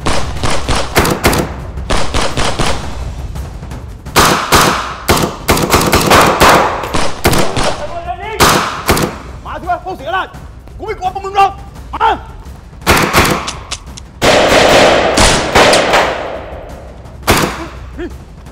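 Gunfire in a staged police shootout, loud close bursts of rapid shots and heavy thuds repeating across the scene, with people shouting between volleys.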